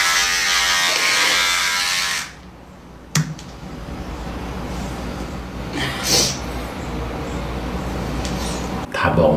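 An electric shaver buzzes steadily for the first two seconds while cutting a woman's hair, then falls away to quieter handling noise and a brief click, with a faint burst of buzzing near the end.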